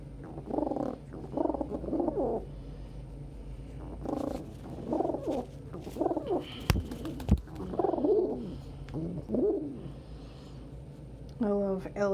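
Pet birds peep and coo close by in a home. There are bursts of soft cooing and rapid chirps in short clusters, with brief sharp clicks between them and high trilling peeps near the end.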